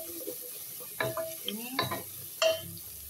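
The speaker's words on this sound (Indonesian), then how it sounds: "selanjutnya kita akan tumis bawang putih yang sudah dipotong" Chopped garlic stir-fried in a pan gives a quiet, steady sizzle, broken by a few sharp utensil clinks and scrapes; a voice speaks briefly.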